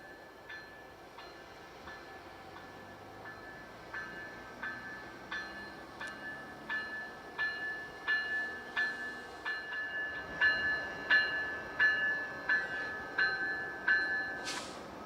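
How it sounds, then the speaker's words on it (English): A southbound grain train slowly easing to a halt, its freight cars rolling past with rhythmic wheel clunks that grow louder and steadier over a sustained tonal squeal of brakes, ending in a brief hiss. "a southbound grain train slowly easing to a halt"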